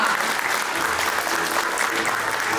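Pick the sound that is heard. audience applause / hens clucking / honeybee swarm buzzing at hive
audience applause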